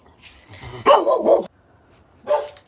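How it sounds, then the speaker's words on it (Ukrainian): A dog barks close by in a few loud bursts with short pauses between them, with no other sounds competing in the quiet yard. "Чого ти гавкаєш?"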